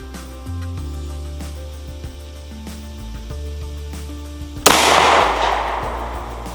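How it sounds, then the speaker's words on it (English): A single sharp, loud pistol shot from a Wilson Combat SFX9 9mm firing Gold Dot ammunition rings out near the end, following several seconds of steady low tonal hum, with a brief decaying tail after the crack. "First shot will be the gold dot."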